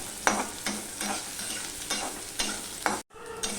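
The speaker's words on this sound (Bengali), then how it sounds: "এবার পেঁয়াজটাকেও আমি একটুখানি হতে দেবো" Onions fry in a pan with a steady sizzle as a spatula scrapes and stirs in regular strokes, about six close, fairly loud sweeps before a brief drop and a return of the frying hiss.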